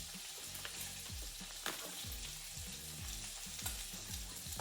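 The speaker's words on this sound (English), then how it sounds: "While my salmon's cooking" Salmon sizzling and frying steadily in a pan, with a dense, even crackle and occasional louder pops and clatter of utensils nearby.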